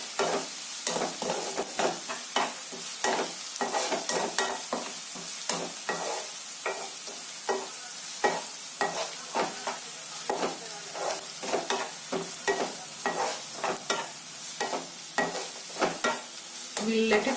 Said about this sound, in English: You need to keep stirring it in between so that the onions don't overcook or become brown